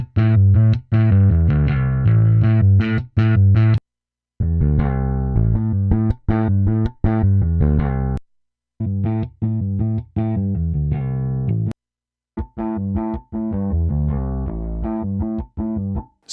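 A clean, dry finger-played electric bass through a direct-input amp plugin plays a melodic line in plucked phrases, with short pauses between runs, close and fairly loud.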